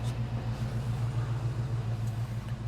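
A fuel-injected El Camino engine idles with a steady, close low rumble, a continuous throbbing hum without pauses, after repairs to an intake leak, the cap and the timing.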